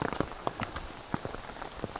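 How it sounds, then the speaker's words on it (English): Cold drizzle falls on an Appalachian Trail thru-hike, with scattered close raindrop taps and patters over a soft steady hiss, alone and fairly quiet. "The rain's feeding it."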